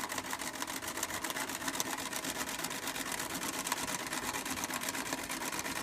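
A Singer 306 sewing machine runs steadily throughout, its needle mechanism producing a fast, even rhythmic clatter at close range while stitching a short, slow-fed satin stitch.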